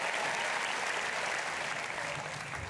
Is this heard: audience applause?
yes